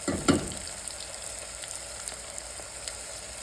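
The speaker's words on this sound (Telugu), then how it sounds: "అవి సేమ్ అదే ఆయిల్లోనే మళ్ళీ ఫ్రై చేయండి" Two chopped onions hit reused hot oil with a brief loud burst of sizzle, then settle into a steady, quieter frying hiss with light stirring clicks.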